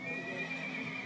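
Horse neighing, a sustained high whinny held at steady pitch through the whole moment, faint and somewhat distant.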